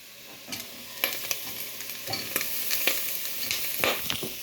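Corn popping in a pot being stirred with the lid off, close clattering scrapes and knocks over a steady frying sizzle, with a few sharp pops standing out.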